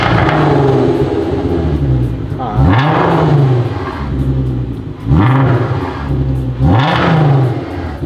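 A used sedan with a modified exhaust revs its engine in three or four sharp, loud bursts, climbing and falling over a steady idle, with people talking nearby in between.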